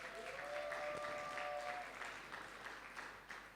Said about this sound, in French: c'est là qu'on acclame très fort pour le Seigneur